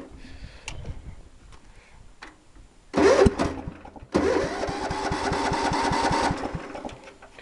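A tractor engine cranks and catches, coughing to life with a choke-assisted start and then settling into a steady close idle, after quiet ticking at the start.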